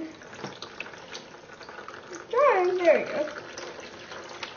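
Streams of water pour from a tap and merge into one, a soft continuous trickle and splash beneath a person speaking briefly.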